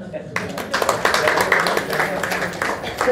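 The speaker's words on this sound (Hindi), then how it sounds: "आज अभी अपने लिए ताली बजाओ।" A crowd claps at a Diwali celebration in Sector 19, Faridabad, a brief burst of scattered hand claps close by, mixed with people speaking over and around it.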